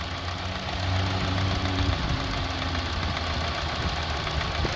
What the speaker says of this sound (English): as you see, very bad idling